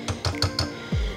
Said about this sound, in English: I'm just gonna take my little handheld whisk and mix everything together